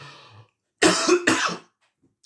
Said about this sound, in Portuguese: Me perdoe todo esse excesso de tosse aqui